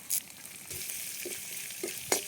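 Steady sizzling of mustard seeds, chana dal, urad dal, dried red chillies, onion and curry leaves frying in hot wood-pressed oil, close by, with a few soft clinks and stirring sounds over the constant crackle.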